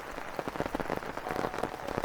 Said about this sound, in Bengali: এই বৃষ্টির দিনে মুসুলধারে বৃষ্টি হচ্ছে